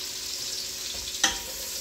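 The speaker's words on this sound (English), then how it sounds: "now we're gonna saute the onion and the celery for about 5 minutes" Chopped onion and celery sizzle steadily in hot bacon grease in a pot for clam chowder, a soft, even frying hiss with one brief clack of a paddle stirring partway through.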